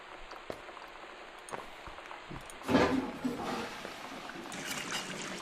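In the video game Gone Home, a tap is turned on and water runs into a basin as a steady hissing splash that begins partway through after a few faint clicks and continues to the end.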